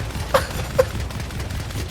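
Bastion's single-shot DMR-style primary fire in Overwatch 2, two separate crisp shots about half a second apart, heard at moderate level over a low game background hum with no talking.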